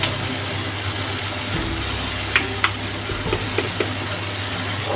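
A teaspoon of garlic sautés in a pan until golden, a constant soft sizzle over a low hum, with a few small clicks of a utensil.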